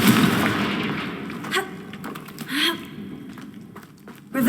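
Confringo explosive spell cast in the video game Hogwarts Legacy, a burst of magical blasts and crackling impacts rising and fading over a few seconds, with a short voice sound among them.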